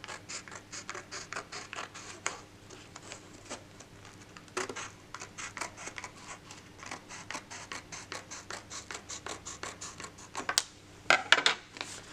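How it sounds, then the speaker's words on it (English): A blade scratches along a marked line while cutting a piece of material for a bridge project, a quiet, close series of short, rhythmic scraping strokes with a few sharper clicks near the end. "I'm going to cut along that line."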